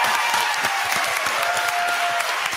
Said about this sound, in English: can we give a huge round of applause to its now official county controller, Robin Lois, who officially won.